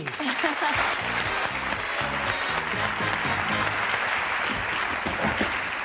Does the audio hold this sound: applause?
yes